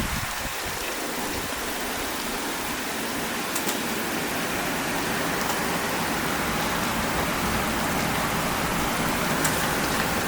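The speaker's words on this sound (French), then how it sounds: "Attendez, il y a toute la pluie qui vient sur mon appareil." Heavy rain pelting a handheld recording device during a violent August thunderstorm in Gironde, a dense, steady hiss with scattered sharp drop clicks.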